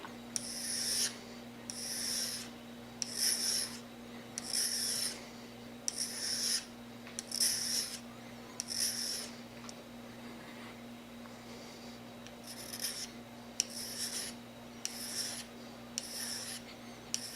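Beretta 92FS trigger parts polished on a 600 grit stone, a rhythmic run of short scratchy rubbing strokes, about a dozen passes with a brief pause midway, close and quiet over a steady low electrical hum.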